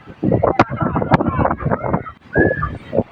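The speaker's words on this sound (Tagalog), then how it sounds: "Kung naririnig nyo ako guys, lakas ng hangin guys." Strong gusting wind on the rooftop of SM Baguio buffets the microphone in loud rumbling bursts, with brief quieter gaps and a faint whistle in between.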